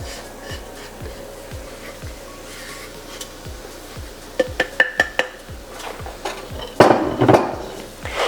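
A wooden spoon scrapes and stirs a home-style gravy roux in a pan, with a steady rhythmic scraping beat under light sizzling, then a few sharper clinks of utensil against the pan and louder clatter near the end.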